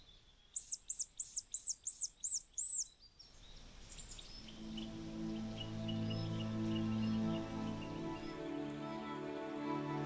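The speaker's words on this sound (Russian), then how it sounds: "самец рябчик летает. Я сейчас с ним общаюсь. У меня вот есть приманка на этих птичек." In the taiga, a male hazel grouse's thin, high whistles and a bird decoy call sound as a quick run of about six piercing notes, followed by a low, steady hum.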